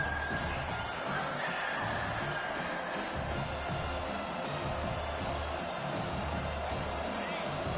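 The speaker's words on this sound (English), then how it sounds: "The roar of the crowd trying to fuel this defense to keep them pinned in their own end" A college football stadium crowd during a road game keeps up a constant, dense roar throughout, with a commentator talking over it.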